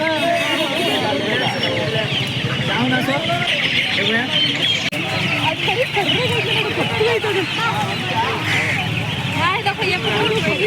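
Native chickens cluck and chatter loudly and continuously up close at a village market, with people talking over the birds throughout.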